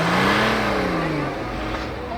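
2020 diesel car with a straight-pipe exhaust at the Sunset GT Motorshow in Nairobi, giving a short, loud rev whose pitch climbs then eases off over a busy background.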